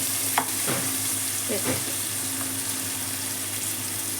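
Onions frying with half a spoon of salt in a pan for Telugu-style gongura mutton, a steady close sizzle with a few stirring scrapes near the start, no talking.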